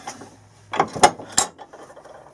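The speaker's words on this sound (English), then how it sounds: "I'm going to ream it just a little bit more. You can see it's already cutting threads in there." Close by, a hand reamer cuts threads into a hole for a bolt in a DIY camera pole handle, producing a few short scraping, ratcheting twists with sharp clicks amid quiet pauses.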